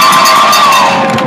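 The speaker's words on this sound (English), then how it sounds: "Let's give George the biggest round of applause for organizing." A crowd at a live event cheers loudly up close in a short burst, with whoops and a raised shouting tone riding over the noise.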